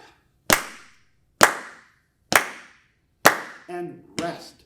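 Four sharp, evenly spaced claps ring out in a steady quarter-note beat during a beginner baritone music lesson, each one crisp and close with a short decay, followed by brief spoken counting.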